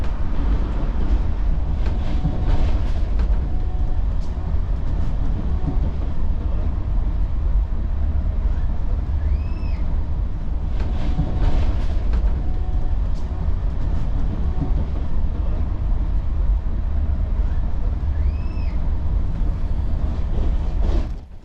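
Inside the Tejas Rajdhani sleeper train between Delhi and Mumbai, a constant low rumble and rushing roar of the moving carriage fills the cabin, with occasional rhythmic knocks of wheels over rail joints and faint distant squeals.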